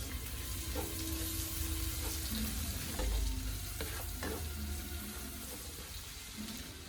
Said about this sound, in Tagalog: medyo lutuin lang natin ng konti yung bawang at sibuyas